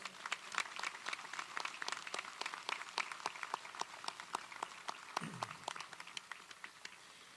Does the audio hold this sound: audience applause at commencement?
yes